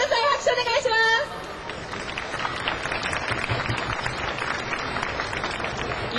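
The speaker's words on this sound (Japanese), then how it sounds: "拍手お願いします。" A live stage-show audience breaks into steady applause just after a brief spoken line, the clapping rolling on evenly at moderate volume.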